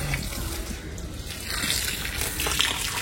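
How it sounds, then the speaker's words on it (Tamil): Water splashes and gushes steadily onto garden plants, a continuous close watering stream with no voices. "நம்ம செடிங்களுக்கு தான் தண்ணி விட வந்திருக்காங்க"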